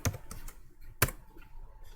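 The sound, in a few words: typing on a computer keyboard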